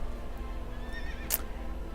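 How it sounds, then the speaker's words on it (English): Horse in the World of Warcraft video game giving a short whinny over a steady low game background hum, followed by a brief bright burst near the end. "We're going to get on our horse."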